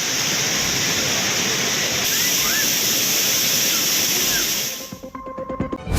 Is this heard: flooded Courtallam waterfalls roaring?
yes